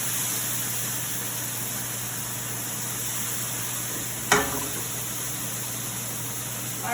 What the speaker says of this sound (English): I'm going to turn it down a little bit because it is sizzling.